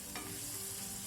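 Spice ingredients frying in a pan, a short steady sizzle with a brief stirring scrape near the start, close and continuous with no voices.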